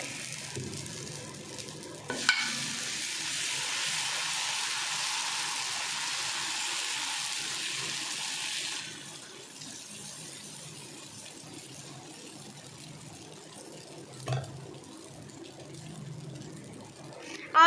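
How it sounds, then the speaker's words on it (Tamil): Masala dosa batter hits a hot pan and sizzles loudly for several seconds, then the frying settles into a quieter crackle, with faint clinks and a brief knock along the way. "ஃபுல் மசாலா தோசை ஊற்றலாம்"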